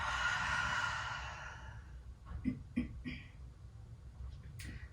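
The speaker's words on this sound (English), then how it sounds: "Exhale everything out." Deep exhale through the nose during a home yoga flow, a long soft airy breath that fades out, followed by a few faint small sounds.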